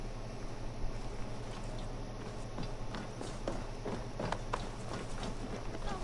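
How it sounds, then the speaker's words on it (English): Horse hooves in Assassin's Creed Valhalla as riders set off, irregular clopping steps building over a low hum, moderately faint and without speech. "Basim, Eivor, to horse!"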